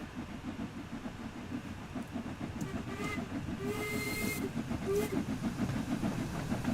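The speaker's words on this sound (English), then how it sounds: "the whistle does sound very off" In the train simulator game Train Sim World 2, a locomotive whistle with a slightly off tone sounds in a few short bursts over a steady rolling rumble of the moving train.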